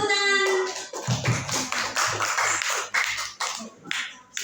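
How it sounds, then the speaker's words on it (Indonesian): Students in a classroom break into applause, a dense burst of close hand clapping that swells and fades unevenly over a few seconds, with faint voices underneath. "Oke, beri tepuk tangan."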